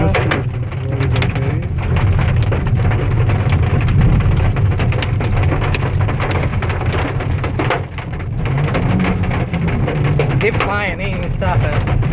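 A hailstorm in the Andes near Mendoza drums heavily and continuously throughout, a loud, dense roar of pelting ice with muffled voices underneath.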